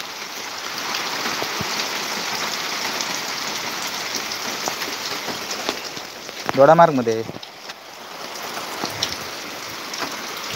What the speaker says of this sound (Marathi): गणेश दोडामार्ग मध्ये लागता हा पाऊस.